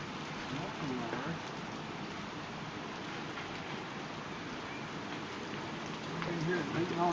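Hail in March drums on a metal building, a dense steady rattling patter that stays loud and even throughout, with people talking faintly beneath it.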